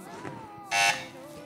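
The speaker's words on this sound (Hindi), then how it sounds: "बजर बजाई है फैजान एकेडमी ने।" Quiz show buzzer on an Iftar transmission program, a single loud, bright electronic tone lasting about a fifth of a second, cutting through a host's ongoing speech.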